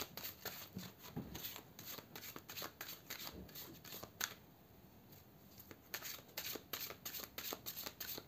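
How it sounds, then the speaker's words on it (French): A deck of cards is shuffled repeatedly, giving quick crisp riffles and soft flutters in bursts, close and quiet, with short pauses between shuffles and no talk. "Allez, on va remélanger."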